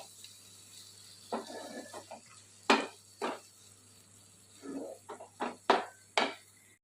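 Mutton fat is stirred in a cooking pan for aloo kosha. Quiet, intermittent scrapes and clinks of a spatula against the pan come in short, irregular bursts.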